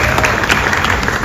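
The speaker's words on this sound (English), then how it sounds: "let's give Kim a big round of applause for that one" A theater audience applauds glass blower Kim, a dense steady burst of clapping at close range that fills the whole moment with no voices over it.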